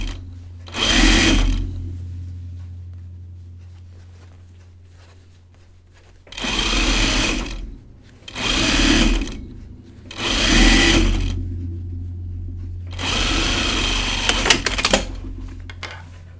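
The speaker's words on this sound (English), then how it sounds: "I'm going to sew my underarm seam on the jacket" A domestic sewing machine stitches the underarm seam of a jacket in four or five separate bursts of steady motor whirring and needle clatter, each lasting one to two seconds, with quiet pauses between them.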